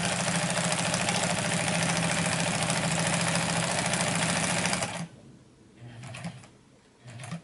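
A 1953 Singer 306W sewing machine stitches fabric with a loud, steady mechanical whir for about five seconds, then stops, leaving faint handling noises.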